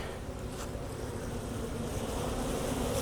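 A dense, steady buzzing of bees surrounds the listener, continuous and fairly close, with some rustling noise mixed in.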